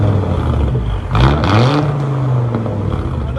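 Volvo S70 engine with its catalytic converters stolen revs hard and loud nearby, a raw, unmuffled roar that climbs, holds and settles back toward idle.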